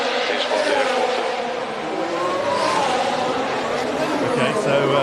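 Sebastian Vettel's Formula 1 car revs at the 2018 Monaco Grand Prix, a steady, buzzing engine roar blended into dense trackside noise with a faint crowd murmur throughout.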